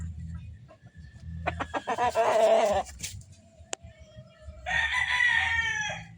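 A golden yellow-legged Dutch over Boston rooster crows loudly nearby, a long harmonic call, followed by a second crow after a brief pause, with other birds and low background noise.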